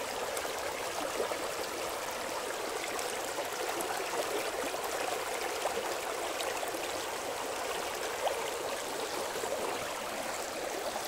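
Rainwater running over stones after heavy rains, a steady broadband rush and gurgle of flowing water that stays constant and fairly close throughout, with no voices.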